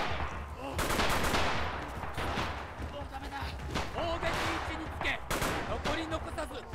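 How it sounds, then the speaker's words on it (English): Type 100 submachine gun bursts in the Red Orchestra 2: Rising Storm video game, rapid automatic fire mixed with other gunfire and battle noise, loud and dense across the whole stretch with no talk. "He's got the submachine gun, he's got the Type 100."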